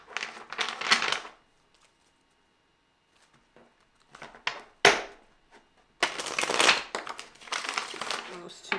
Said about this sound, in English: I'm just going to give these a shuffle before I begin